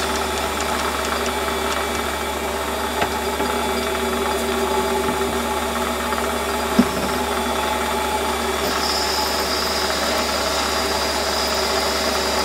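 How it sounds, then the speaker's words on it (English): Drill press boring a deep hole into a steel rod for a fire piston, a steady whirring motor drone with a faint ringing tone, continuous and close, with one brief knock midway. "Feel the drill bit trying not to whack the chuck"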